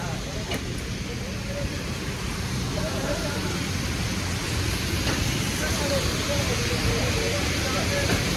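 Heavy rain pours steadily and loudly while travelling near Panvel on the Konkan road, a dense continuous wash of noise with no breaks, close and enveloping throughout.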